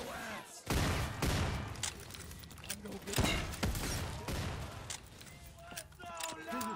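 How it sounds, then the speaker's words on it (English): Rapid gunfire from the Call of Duty Zombies game rattles in bursts as zombies are shot, with heavy thuds mixed in and voices talking over the shooting. "Get your trigger finger ready and start shooting some zombies."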